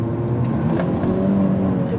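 A Hyundai Avante N is driven on a winding downhill road in normal mode, its engine and exhaust droning loud and steady from inside the cabin.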